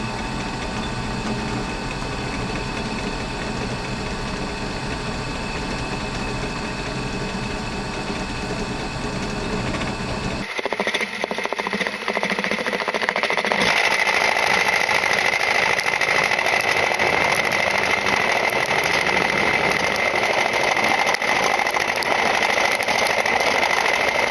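A Chinese face mill cutting metal at 1,000 RPM starts as a steady mechanical machine hum, then turns into a louder, brighter continuous cutting whine with a sustained high tone over grinding noise.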